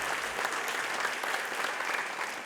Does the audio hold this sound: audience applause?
yes